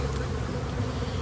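Honey bees drone in an open hive, a dense, close, steady buzz filling the short moment without any voices.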